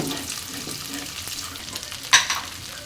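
Beaten egg frying in a pan for a rice dish is stirred, making a soft, busy sizzle with one sharp utensil scrape near the end.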